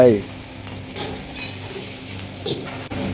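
Yellow noodles for mee goreng mamak are stir-fried in a hot pan with garlic, carrot, cauliflower, tomato, Chinese cabbage, kale and dried chili paste. They give a steady sizzle with scraping stir strokes and occasional utensil clinks.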